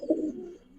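A Damascene pigeon pair, offered for sale, gives a single short low coo that swells briefly and fades over under a second, fairly close and alone.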